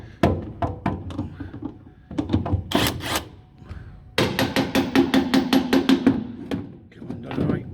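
Rear spring shackle nuts, 19mm, are worked loose on a Ford Transit Mk1, with clanking tool strikes and knocks followed by a quick rhythmic run of sharp metallic taps, close and loud.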